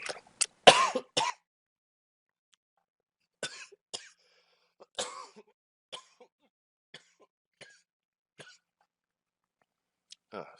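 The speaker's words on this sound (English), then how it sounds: "I do apologize for coughing into everybody's ear for the last 6 minutes or so" A harsh burst of coughs opens, followed by scattered smaller coughs and throat clearing spread out across otherwise quiet stretches.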